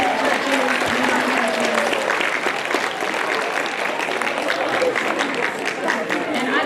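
Dense, steady applause from a large crowd honoring judges at a school speech and debate event, loud and sustained throughout without pause.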